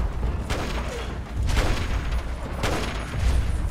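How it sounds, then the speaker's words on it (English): Gunfire in a shooting video game, with loud rapid bursts at a steady rhythm that swell up again twice over a constant background din. "What are you even shooting at, pal?"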